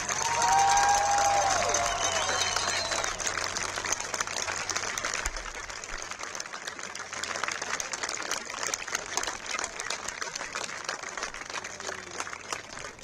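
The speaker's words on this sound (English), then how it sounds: "Please give a big round of applause" Crowd applause and scattered cheering at a high school football field dedication in Carroll (Flora), heard from a distance with a loud opening that settles into a steady patter of clapping.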